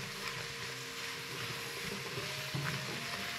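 Mushrooms fry in oil in a multicooker bowl, a soft, steady sizzle with faint bubbling and a low hum, heard quietly up close without any talk.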